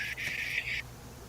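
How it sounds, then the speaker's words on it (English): A bird gives a steady, loud buzzing call lasting under a second, close and alone over a quiet background. "I hear the bird buzzing."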